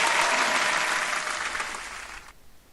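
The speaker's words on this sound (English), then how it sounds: "let's turn that applause off." A crowd applause sound effect plays on a live crypto stream, a dense wash of many clapping hands that runs steadily, then fades slightly and cuts off abruptly near the end, leaving near silence.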